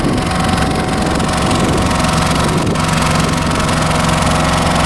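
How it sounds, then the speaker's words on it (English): A Bitu-Ox asphalt tar truck runs steadily, a loud, close, continuous engine drone with a rough mechanical rattle throughout, and no talking. "This right here is a working machine. It's on, it's running, it's full of tar."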